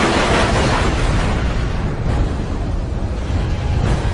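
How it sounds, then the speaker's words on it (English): A loud, sustained rumbling roar of gunfire and explosions from an aerial dogfight between Mirage fighters and Sukhoi Su-7 jets fills the whole stretch with dense, unbroken noise. "then another Sukhoi falls to Mirage cannon fire."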